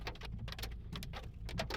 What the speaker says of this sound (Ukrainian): Просто град лупашить.